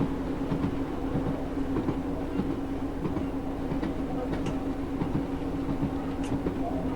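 A Class 156 diesel multiple unit runs between Lowestoft and Norwich in the Train Sim 2021 game, a steady low engine drone with rhythmic rail clatter and an underlying tonal hum, heard close throughout while someone speaks.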